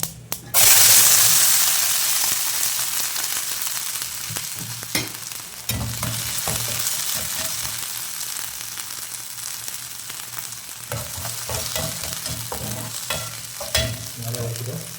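Garlic and onion sizzle steadily in hot oil with mustard seeds and pepper, frying for a potato masoor dhal, with a spoon stirring and scraping the pan in close, irregular strokes throughout.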